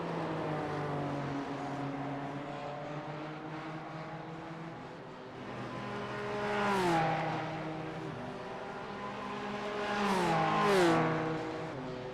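BMW sports race cars in a video game racing at Watkins Glen, engines droning steadily with rising and falling harmonic pitch as cars pass and shift, two louder near pass-bys swelling around the middle and end.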